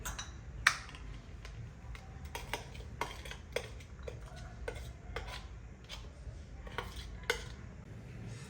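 Crushed small onions scraped from a chopper into a bowl, giving a run of light clinks and taps of utensil on dishware, sparse and fairly close with quiet gaps between.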